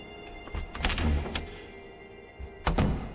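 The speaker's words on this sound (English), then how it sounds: "It's locked with a deadbolt." A deadbolt-locked door in a video game rattles and thunks as it is tried, a few dull knocks followed by a firmer clunk near the end, close and alone.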